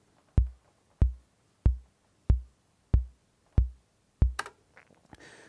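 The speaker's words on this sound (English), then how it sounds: "if I would want to program a bass drum" A Roland CR-8000 drum machine plays a bass drum pattern, seven evenly spaced deep thumps with quick decay sounding alone, followed by brief clicks and handling noise at the end.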